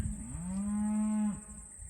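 An Angus cow or bull penned in a cattle pen gives one long, loud, steady moo close by, rising at the start and cutting off after about a second, with no talk over it.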